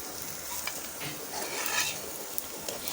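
Chicken and potatoes fry in a pan with a close, constant sizzle, while a spatula scrapes and stirs through the pieces in uneven bursts.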